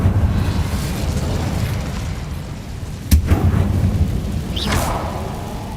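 A fiery Incendio spell going off in the Hogwarts Legacy video game: a sharp burst at midpoint breaking through a constant low rumble, followed by a swelling whoosh of flame.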